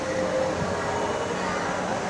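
Steady low rumble of a train in motion in Singapore, with a droning hum and faint rattles, as heard from inside a carriage.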